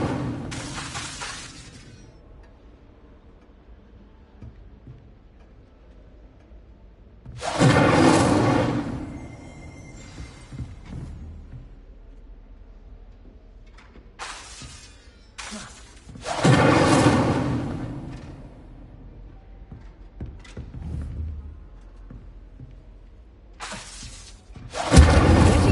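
Fiery spell impacts striking practice targets in a classroom in the game Hogwarts Legacy: several separate loud bursts with crackling, shattering tails, spaced apart with quiet gaps between them.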